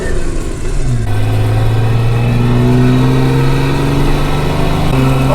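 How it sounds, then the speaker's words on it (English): A Toyota Tacoma pickup truck drives with its engine revving loudly and steadily close by, the pitch rising and holding through the run. "Oh, it drives. We're driving. That's pretty loud."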